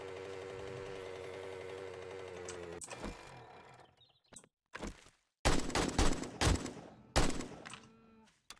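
Gunfire in the survival video game 7 Days to Die: several loud, sharp shots in separate bursts and single cracks, following a stretch of droning game ambience, with no talking.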